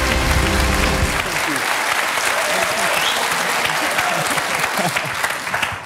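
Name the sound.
studio audience applauding a guest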